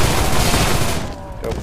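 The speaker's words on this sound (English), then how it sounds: "Heavy machine gun." Heavy machine gun in a video game fires a dense, loud burst of rapid shots for about a second, then drops to a quieter tail with a faint late crack.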